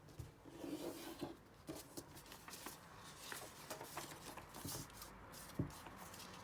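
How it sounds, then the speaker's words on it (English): A fingernail is drawn along a fold in paper to sharpen the crease while folding a paper bat, giving soft, faint scraping rubs in short irregular strokes against a quiet background. "now you're going to run this fold down with your fingernail so it's a sharp crease"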